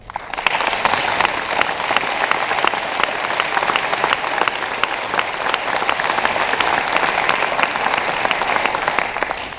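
Steady, dense applause from a conference audience honoring sponsors at a closing session, evenly loud for several seconds with no voices over it.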